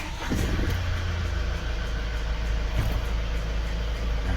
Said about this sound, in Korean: 시동을 걸었고요